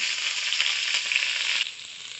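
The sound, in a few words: bottle gourd sizzling in hot oil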